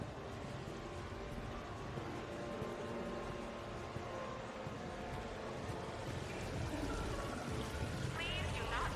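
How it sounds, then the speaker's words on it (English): Decorative fountain waterfall in Mass Effect 3, heard as a steady, moderately loud wash of falling, pouring water that runs unbroken through the whole stretch, with faint background ambience and no talking. "Please do not touch the waterfall."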